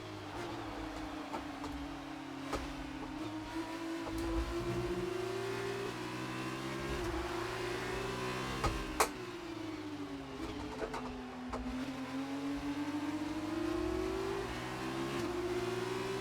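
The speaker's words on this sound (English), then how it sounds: "really am enjoying driving the Formula 2 cars" A Formula 2 race car engine in F2 2018 at the French GP revs up and down through repeated gear changes, its whine rising and dipping in waves over about sixteen seconds, alone without talk.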